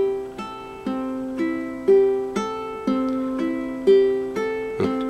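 Ukulele Travis picking pattern played slowly on open strings, single plucked notes in an even, alternating rhythm, each ringing and fading, close and clean with no voices.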